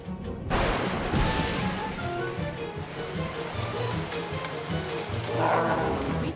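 A cartoon storm roars with steady heavy rain, a sharp thunder crack near the start and a rumbling swell toward the end, loud and continuous with no talking.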